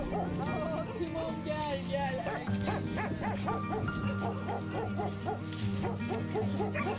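Several shelter dogs bark repeatedly in a noisy outdoor setting, overlapping yips and woofs at moderate distance, mixed with background voices and rumble.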